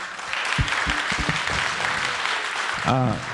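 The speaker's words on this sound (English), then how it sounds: "Applause, please." An audience applauds after a conference talk on Scrum, a continuous spread of clapping with a few voices speaking over it near the start and at the end.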